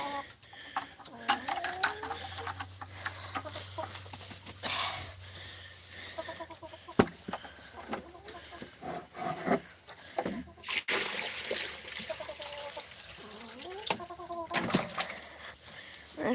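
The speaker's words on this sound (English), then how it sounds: "Now we're back to the chickens." Chickens in their coop cluck and squawk nearby in scattered, irregular bursts, with a few sharper calls rising above a low background murmur.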